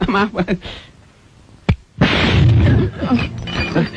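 A television explodes with a sudden sharp bang in the middle, followed by a burst of loud crackling and rumbling, with people talking before and after.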